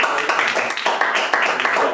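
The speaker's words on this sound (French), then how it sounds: "Ça peut s'applaudir encore une fois, je crois." A small audience around a table at a stage hypnosis demonstration claps, a close, loud burst of dense hand claps with slight surges, under faint background voices.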